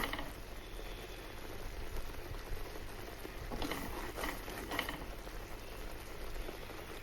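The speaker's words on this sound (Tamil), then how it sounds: "நல்லா கொதிக்கட்டும்," Coconut burfi mixture of grated coconut and sugar bubbling in a pan on the stove, a dense continuous sputter and pop of thickening syrup, with occasional louder bursts as it is stirred, no voices.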